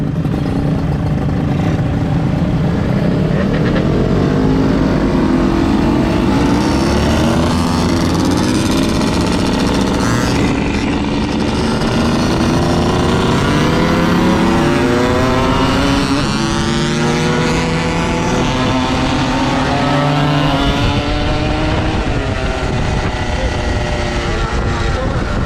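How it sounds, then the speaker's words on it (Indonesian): Motorcycle engines, including two-stroke bikes, rev and rise in pitch one after another, with loud rasping whines sweeping up and down over a sustained rumble, and people talk intermittently under the noise. "pantas suara motor lu beda bang."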